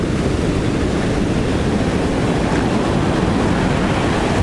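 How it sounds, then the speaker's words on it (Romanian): Sea waves breaking on the beach at Golden Sands, Bulgaria, a continuous loud wash of surf with wind buffeting the microphone and no voices. "astăzi au fost niște valuri și sunt în continuare niște valuri foarte interesante."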